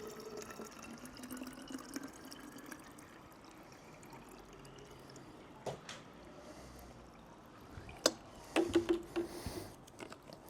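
Steady running water trickles into a container for several seconds, followed by a few close plastic bumps and splashes near the end.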